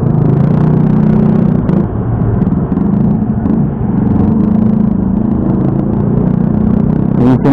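A Yamaha MX-135 Sniper motorcycle engine runs steadily up close, a loud, continuous low rumble with slight clattering throughout, ending with a brief sharper rise.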